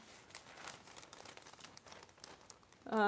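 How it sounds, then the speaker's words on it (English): Newspaper being rustled and crinkled up close: soft, continuous crackling and crumpling at low level, ending with a brief louder sound. "I feel I'm always making the sound, like paper sound."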